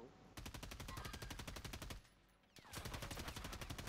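Rapid automatic gunfire in Call of Duty Resurgence, a dense sustained rattle of closely spaced shots that breaks off briefly, then resumes just as fast and loud.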